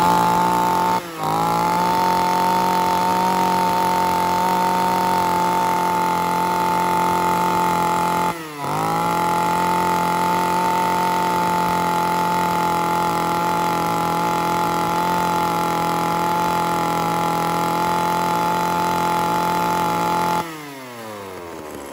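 A chainsaw engine, from a batch of saws being tested by cutting into a tree stump, runs loud and steady at high revs for about twenty seconds, with two brief dips in speed before it winds down at the end.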